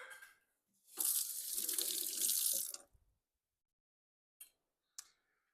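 A dropped chili pepper rinsed under a running kitchen tap, with a short burst of water splashing into the sink for about two seconds, followed by quiet and a couple of faint clicks and drips.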